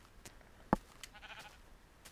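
A single sheep in the video game Minecraft gives one short, faint bleat amid quiet ambience, with a few soft clicks around it.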